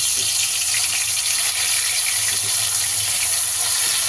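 Rohu fish pieces frying in hot oil give off a loud, dense, unbroken hiss that holds steady for the whole stretch, with no talking.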